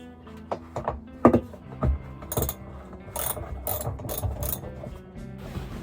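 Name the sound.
wrench unbolting truck camper from inside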